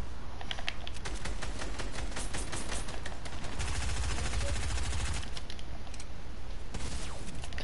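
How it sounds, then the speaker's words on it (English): A FAMAS rifle fires in a shooter video game, with rapid bursts of sharp cracks coming in quick rhythmic volleys and pauses between them, over a steady background hum and mixed with some clicky tapping. "This guy hit all of his shots with the FAMAS"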